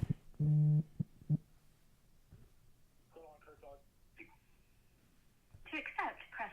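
A phone rings for an incoming call with two short, loud, buzzy tone bursts near the start, followed by quieter voices and other sounds.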